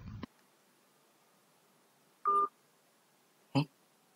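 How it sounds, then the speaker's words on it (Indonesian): A phone call to the Indonesian parliament (DPR) press office: a few short isolated clicks and tone bursts are separated by near silence, with no ringing tone before the line goes dead. "Percobaan pertama nelpon ke nomor humas DPR, gak ada nada dering, dan beberapa lama langsung mati."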